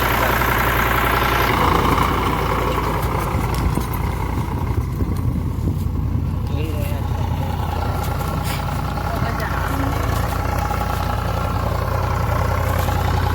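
A heavy tractor engine chugs and idles loudly and continuously, with voices talking over the steady low rumble.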